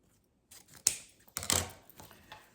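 Scissors snip through ribbon for a bow in two or three quick crisp cuts, close but fairly quiet, with light handling rustle around them and no talk.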